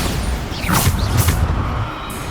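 Bombarda explosion spell cast in Hogwarts Legacy, a whooshing magical burst with a rumbling boom partway through, loud and dense against constant busy game noise.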